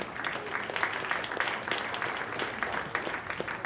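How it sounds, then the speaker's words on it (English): Warm applause rises from the audience at a startup pitch event in an Atlanta tech hub, steady clapping held at a moderate level throughout. "Round of applause, y'all."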